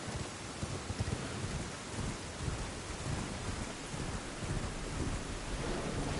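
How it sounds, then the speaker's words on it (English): Steady heavy rain with rumbling thunder in a video game, a dense, continuous downpour hiss over low rolling rumbles, with no voices. "Okay, well, it's raining."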